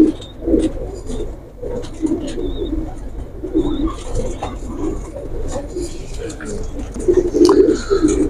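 A large male pigeon of a Pakistani fancy breed coos in repeated low throaty bursts, close by, with other birds chirping faintly and someone talking over parts of it.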